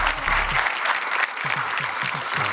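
Loud audience applause fills a Marathi television show studio, a dense steady wash of clapping lasting a few seconds, with a brief dip midway and low music or voices faintly underneath.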